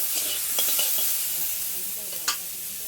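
Vegetable stalks lightly frying in oil in a wok, a soft continuous sizzle close by with a few quick stirring scrapes and one sharper clack near the end.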